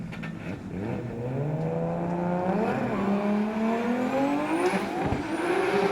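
A Pro-class drift car at a D1NZ championship qualifying round in Wellington revs hard out on the track, its engine note climbing and wavering through gear changes, with a brief tyre squeal as it pulls away, close and loud.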